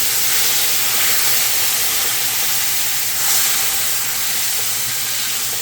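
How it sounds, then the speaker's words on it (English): Curry frying in a pot gives a steady, loud broadband sizzle and hiss, with a brief swell partway through and no talking over it. "I'm just adding my curry to this. Let it fry up in there"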